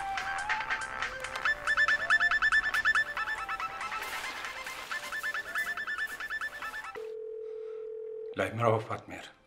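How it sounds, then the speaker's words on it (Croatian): A steady telephone dial tone drones alone for just over a second during a call, following a stretch of busy music and voices and cut off by a brief burst of noise. "Ende pe telefonon Fatmirit"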